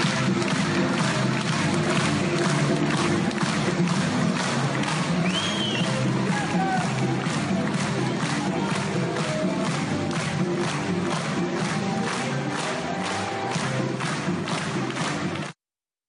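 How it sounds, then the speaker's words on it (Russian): Theatre audience applauding at a farewell for a famous clown, a steady, rhythmic, sustained clapping from a large crowd that runs unbroken before cutting off abruptly at the end. "И вот таких великих артистов всегда провожают аплодисментами."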